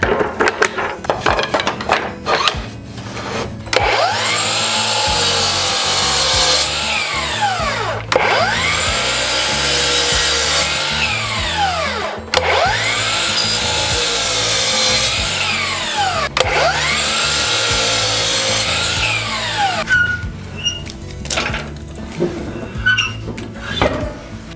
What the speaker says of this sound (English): I'm going to go ahead and take the ends off so I can see the end grain a little bit better.